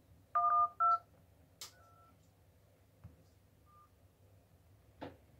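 Three DTMF keypad tones dialing 112 on a Huawei/Honor phone with EMUI 9.0.1, two quick tones then a third, followed by soft taps.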